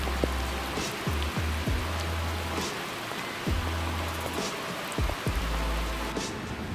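Summer rain falls steadily on a rural vegetable garden, a close, continuous hiss of drops with faint low hums coming and going beneath it.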